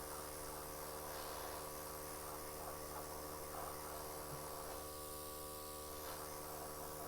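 An airbrush sprays weathering paint onto a model railway wagon, giving a steady close hiss over a constant electrical hum with no breaks throughout.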